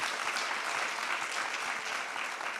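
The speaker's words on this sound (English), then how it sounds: "I'm going to give them a hand of applause" An audience claps for the plenary speakers at an academic conference, a dense, continuous round of applause from many hands that holds steady throughout.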